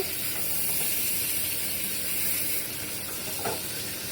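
Dried chapila and chela fish curry fries in a pan with a steady, close sizzling hiss and faint stirring, with no talk.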